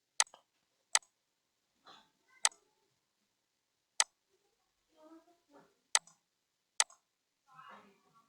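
A computer mouse clicks through a software installer: six sharp, isolated clicks spaced about a second apart, with faint soft rustles and murmurs between them in a quiet room.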